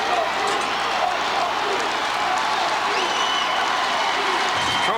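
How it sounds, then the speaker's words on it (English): A dense Trojan football crowd roars and applauds at a 2001 Division 3 state final, a loud sustained wall of cheering and clapping with a whistle-like shout piercing through. "Trojan crowd making some noise."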